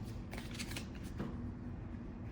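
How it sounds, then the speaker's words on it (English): A deck of playing cards is shuffled close by in a steady flurry of riffling snaps lasting a couple of seconds, with no talk over it. "And let's shuffle again."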